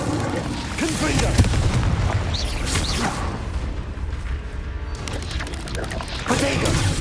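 Confringo fire spell explosions in the Hogwarts Legacy video game, several loud booms and crashing impacts scattered across the clip amid battle noise and a voice calling out spells.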